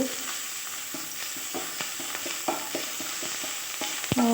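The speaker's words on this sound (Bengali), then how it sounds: "কড়াইয়ে তেল আছে, এখানে আমি গ্রেট করা আদাটাকে দিয়ে দিলাম, দিয়ে একটু নেড়ে চেড়ে নেব" Oil sizzles steadily in a kadai as grated ginger fries while a utensil stirs and scrapes, with soft clicks and taps scattered throughout.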